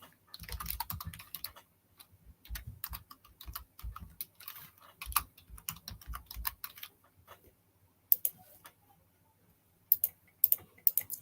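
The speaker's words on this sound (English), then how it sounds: "If you can't see me typing yet, you see me type now." Quick bursts of typing on a laptop keyboard, close and crisp, with irregular clusters of key clicks separated by short pauses before more scattered taps near the end.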